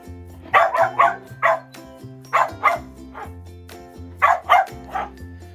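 Several dogs bark in short bursts of two or three, clearly and close by, with pauses between the volleys and no talking over them.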